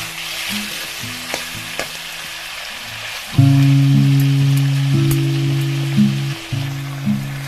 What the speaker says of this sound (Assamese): মাংসটো প্ৰায় ভাজ খাইছেগৈ